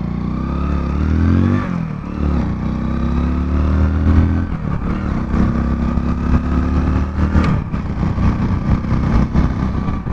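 A Hero Splendor Plus BS6 motorcycle's small engine revs up through rising tones, with a gear change and renewed pulling, loud and close with no talking.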